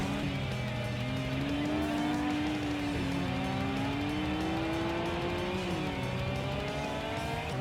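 A Mitsubishi Evo's engine roars steadily in a touge racing video game, revving and shifting pitch as it accelerates through corners, with tire noise and stormy-weather ambience underneath, loud and continuous.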